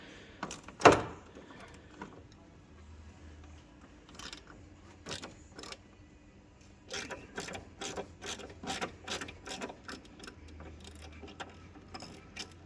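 Ratchet clicking as it loosens a front bumper bolt on a 2007 Vauxhall Zafira, with bursts of quick rhythmic clicks close by, a louder knock near the start and quiet workshop background.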